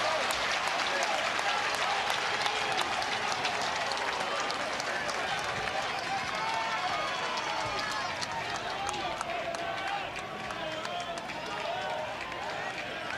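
A college baseball crowd at a Kansas versus Oklahoma game roaring and applauding in a broad, sustained wash, with a commentator talking over it.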